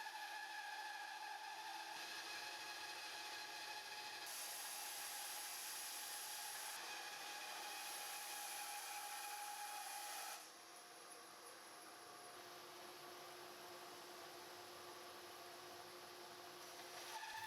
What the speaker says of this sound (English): I headed over to the bandsaw to resaw my pieces down to 3/32 of an inch